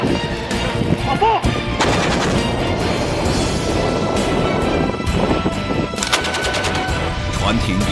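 Continuous loud gunfire during a shooting competition fired from a moving boat, with rapid repeated shots and rolling booms filling the whole stretch while a voice talks underneath.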